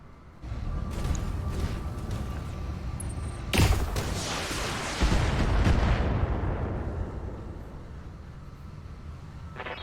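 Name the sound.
heavy weapons fire in the video game Battletech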